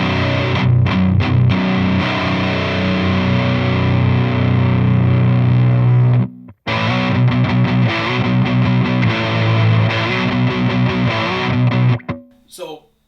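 Unboosted electric guitar played through a rectifier amp, heavily distorted with thick palm-muted riffs and sustained chords, a brief stop midway, then more chugging before the playing cuts out at the end.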